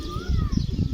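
Pigeons that have come down to drink give a brief burst of soft, low coos mixed with a thin rising call, close by and fairly quiet.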